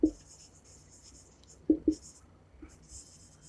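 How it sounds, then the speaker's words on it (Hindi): Chalk or marker strokes on a board while an equation on hysteresis loss in a magnetic core is written out, a few short scratchy bursts at the start and near the end over faint room noise. "जिसको हम इक्वेशन के फॉर्म में लिखते हैं।"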